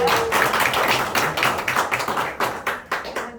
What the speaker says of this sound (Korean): 우리 이상원 회장님께 큰 박수 보내드리겠습니다